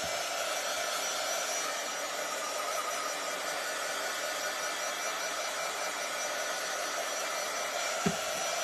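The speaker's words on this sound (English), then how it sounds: "I'm going to get my dryer and just dry it a bit, see if that helps" A handheld hair dryer blows steadily on a paper craft piece, a loud, constant rushing hiss close to the mic, with a single brief knock just before the end.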